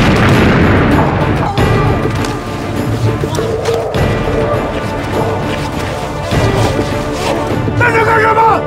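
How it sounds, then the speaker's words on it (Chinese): A staged explosion in a Chinese action film set around a terrorist attack on a resort: a loud, dense roar with booming crashes and debris that stays heavy for the whole stretch, with brief dips and a renewed burst near the end. "爆炸是最美的艺术品"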